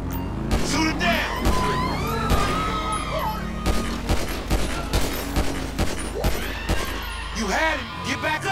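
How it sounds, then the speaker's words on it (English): Rapid bursts of gunfire in GTA 5 aimed at a fleeing biker ring out over constant engine and traffic noise, with crashes and thuds mixed in, while voices shout throughout. "We need to shoot him off the bike."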